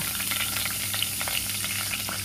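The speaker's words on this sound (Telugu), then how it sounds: "నూనె కొద్దిగా వేడెక్కాక ఈ పోపులన్నీ కలిపేసి నేను వేసేస్తున్నాను" Tempering spices frying in hot oil for semolina upma give a steady close sizzle, with crackling pops scattered through it and no voices.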